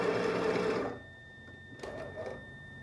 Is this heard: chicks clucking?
no